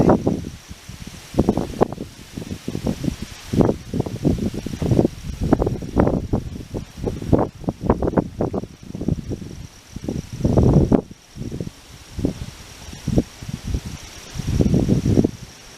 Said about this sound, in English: It's a little breezy today.